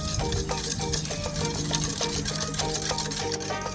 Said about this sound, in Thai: ตีให้ส่วนผสมเข้ากันนะคะ ให้แป้งละลายดีเลยค่ะ